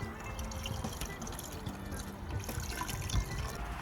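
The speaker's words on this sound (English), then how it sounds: "Now top up your screen wash to full using a good quality premix or concentrate and add water on top." Water pours into the screen wash reservoir of a 2004 Honda Civic, a close, continuous gurgling trickle with small splashes throughout, no voices.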